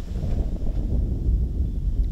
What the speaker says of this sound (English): Hear that big gust as he threw his drive.